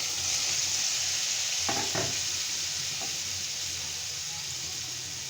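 Freshly cut, washed potatoes sizzle in hot oil in a pan, a steady broadband hiss held close throughout, with a couple of brief stirring scrapes early on and no talking.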